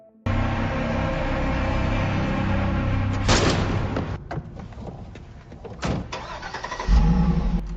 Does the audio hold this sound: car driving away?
yes